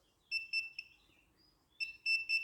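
A continuity tester's buzzer sounds in short, bright beeps, first three quick pulses, then a pause, then three more, close and clear over near silence.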